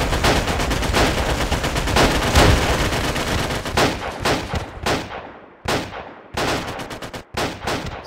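A rifle volley gunfire salute at a memorial in the WWII game WWII Online: a dense, loud burst of overlapping shots that thins into scattered, separate cracks with short gaps before it stops.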